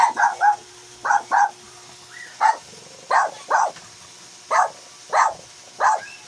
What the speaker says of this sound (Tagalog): Ang aso sa kapitbahay?